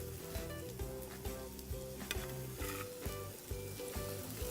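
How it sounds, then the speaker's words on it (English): Onions tossed into a hot frying pan sizzle steadily with a dense, close crackle and light stirring scrapes throughout, no voice over it. "So I'm gonna just toss the onions into the pan."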